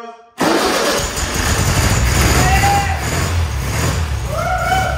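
A vintage VW Beetle engine cranks and catches, then runs with a loud, steady, close-up idle that roughens and rumbles for several seconds with no talk.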